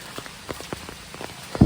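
Heavy monsoon rain pelts down in the Malenadu hills near Koppa, a steady wash of patter with scattered sharper drops striking surfaces and a louder splash of impacts at the end.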